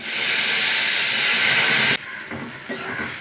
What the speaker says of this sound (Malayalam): ചെറുപയർ ഒഴിച്ചു കൊടുക്കാം.